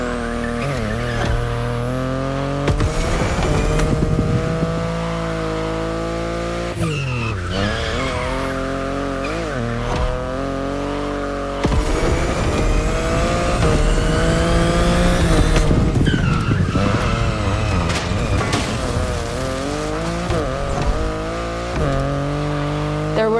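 A BMW i8 sports car in the racing game The Crew Motorfest revs hard and skids, its tires squealing loudly in repeated bursts over a steady engine drone, with no talk.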